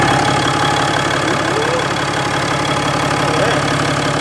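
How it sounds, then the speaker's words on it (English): A built truck idles loudly and steadily at close range, its cold air intake giving a constant whooshing hiss like a shop vac over the engine's low rumble. "cold air in the intake elbow, it sounds like a shop vac"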